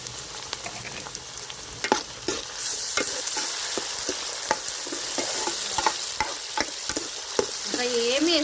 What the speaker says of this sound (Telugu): ఇప్పుడు టమాటా పండ్లు వేసుకుందామండి.